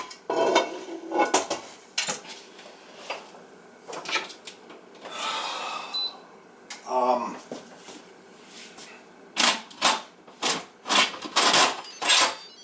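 Stuffed peppers dropped one by one into an Instant Pot, making a run of sharp metallic clunks and clatters against the inner pot, with quiet background noise between the hits.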